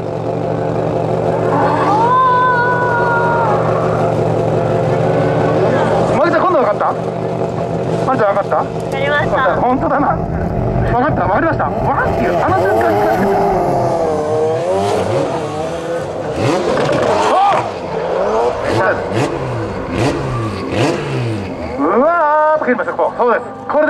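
Drift car engine at a Team TOYO TIRES drift demonstration run, Motorsport Japan 2022, revving and rising in pitch with swooping sweeps and tire noise, loud and continuous beneath excited commentary.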